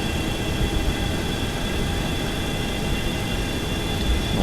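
Boeing 737-200 jet engines roaring steadily on the takeoff roll in the X-Plane 11 flight simulator, a loud, constant broadband rumble with a faint high whine held throughout.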